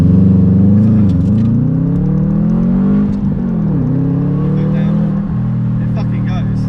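A Subaru Impreza WRX Prodrive, four-wheel drive, accelerates with a loud, close engine drone that rises in pitch and shifts a few times as it pulls, heard from inside the car.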